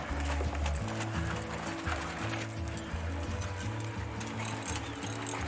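Several horses loping around an arena at an equestrian event, with steady rhythmic hoofbeats against loud background music and a faint whinny.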